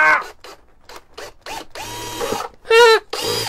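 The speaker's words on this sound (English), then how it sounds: "I'm drilling a hole in the front." A power drill bores a hole in the spruce-type front of a handmade archtop ukulele, short whirring bursts of rising and falling pitch close up, separated by brief pauses.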